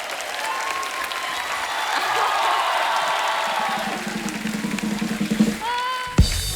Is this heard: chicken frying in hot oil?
no